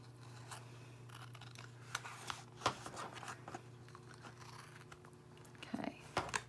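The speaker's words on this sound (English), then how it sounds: "I'm just going to take my scissors and I'm just going to trim this off" Scissors snip and trim the edge of a pocket-size traveler's notebook, a few faint, sparse cuts and rustles over a low steady hum in a quiet room.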